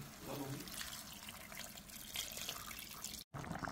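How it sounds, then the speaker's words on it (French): Half a litre of water is poured into a pot of meat being pre-cooked for a grilled gombo dish in red oil, producing a steady close splashing and gurgling stream with a brief break near the end. "je vais rajouter un demi-litre d'eau pour bien pré-cuire ma viande"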